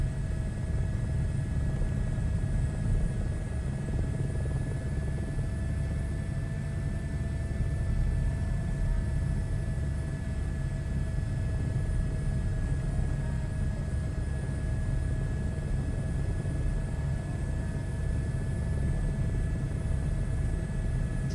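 A helicopter in Microsoft Flight Simulator, hovering in ground effect, gives a steady droning rotor and engine rumble with constant tonal whine lines, unbroken and even throughout, with no talk.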